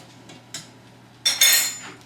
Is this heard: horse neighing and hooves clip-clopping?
no